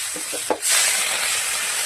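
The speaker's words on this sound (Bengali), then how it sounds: "এরপর সবজিগুলো কিছুটা ভেজে নিতে হবে" Vegetables for Bengali sukto frying in a pan with ginger paste and bay leaves, a steady broadband sizzle that flares up after a few soft stirring taps and then hisses evenly, close and fairly loud.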